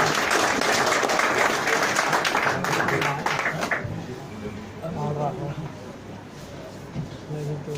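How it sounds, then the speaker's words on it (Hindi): Audience applause for a speaker at a motivational talk, a dense wash of clapping that fades after a few seconds into quieter crowd noise and murmured talk. "सर के लिए एक बार जोरदार तालियां बजाइए"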